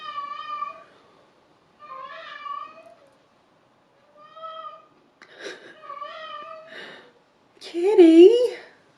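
Indoor cat meowing in a hallway, five or six drawn-out tonal meows separated by pauses, the last one louder and more strained, heard alone and fairly close.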